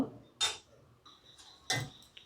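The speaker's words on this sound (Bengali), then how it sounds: "ঢাকনা দিয়ে ঢেকে দেব।" A metal lid is set onto a cooking pot of shukto vegetables: two sharp clinks about a second apart, close and clear, with faint kitchen ticking between them and no talk.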